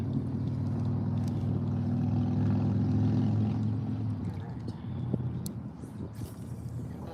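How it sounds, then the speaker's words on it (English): A motorized fishing kayak runs at full throttle on open water, giving a loud, steady motor drone that holds close and constant, then eases slightly toward the end. "I had to put the throttle down. Show you guys how fast this kayak can go."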